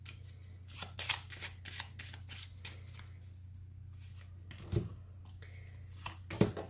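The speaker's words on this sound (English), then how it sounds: "Apparently I feel the need to shuffle these again." Soft papery riffling and brisk shuffling bursts of a deck of oracle cards, close by and fairly quiet, over a steady low hum; no talking.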